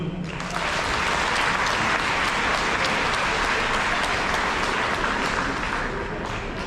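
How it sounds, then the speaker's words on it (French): An audience at an association gathering applauds the stage machinists who handle the lighting, a loud, sustained wall of clapping that carries on steadily for several seconds. "On peut les applaudir."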